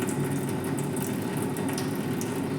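Water flushes steadily through a goat's intestine held open at one end during cleaning, a continuous close, even rush of running water with no talking.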